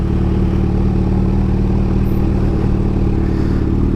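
A Kawasaki Ninja H2 superbike's engine runs steadily and loudly throughout, a dense, constant mechanical drone with clattering texture, heard close up during a test ride.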